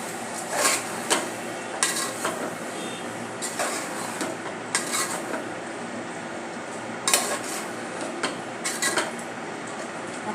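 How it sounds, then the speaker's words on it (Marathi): Marinated prawns stirred into a pot for prawn biryani, giving repeated metallic clanks and scrapes of a spoon against the pot over a low bubbling hiss, close and fairly loud, with no voices. "अशा प्रकारे आपण कोळंबी घालून घेऊया मिक्स करूया"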